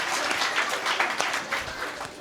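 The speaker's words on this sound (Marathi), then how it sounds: "तुम्ही बघितलं का टाळ्या कुठं वाजल्या?" An audience claps at a Marathi kirtan led by Vaibhav Maharaj Gadhave: a dense burst of crowd applause that rises, flutters and slowly tapers off.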